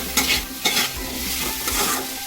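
Potatoes with onions, salted and seasoned with turmeric, sizzle steadily in a pan while a spatula scrapes and stirs in several distinct strokes, close and fairly loud.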